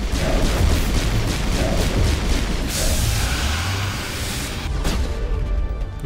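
Pistol fire in Mass Effect 1 rings out as repeated loud booming shots over a dense, continuous roar of combat noise, with a sharper burst near the end.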